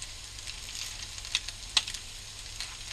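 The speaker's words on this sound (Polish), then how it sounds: "Ale się smażą jeszcze ładnie." Steady, soft sizzling of egg, potato and ham cutlets frying in a pan, with a few sharper pops and spits breaking through the continuous hiss.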